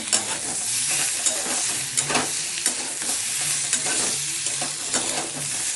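Brinjal frying and being stirred in a pan for begun bhorta, cooked until well browned: a steady, loud sizzle with repeated scraping stir strokes and light clinks, close up and without talk.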